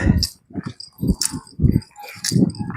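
Dogs bark in short bursts, several sharp barks repeating irregularly, fairly close and loud, with no talking.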